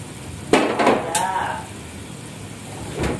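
Sweet and sour sauce for gourami fish coming to a boil in a pan, a soft bubbling sizzle with a few clinks of a utensil against cookware near the start, close and fairly quiet.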